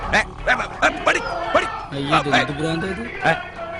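A dog barks repeatedly in short yips and bow-wows, near and fairly loud, with a few whimpering notes between the barks.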